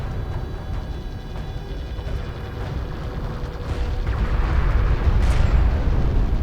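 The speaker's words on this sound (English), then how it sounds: "Hostile railguns have opened up." Hostile railgun fire and explosions rumble through a battle in Homeworld: Deserts of Kharak, a dense, continuous low roar of booms and bursts that swells louder toward the end.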